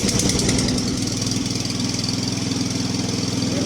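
A cheap secondhand petrol lawn mower with a worn priming bulb runs close by, its engine chugging steadily with a rough, rapid putter throughout.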